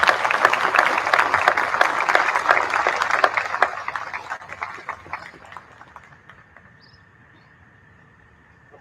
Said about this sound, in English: Please join me in a round of applause to thank each of these individuals for their service.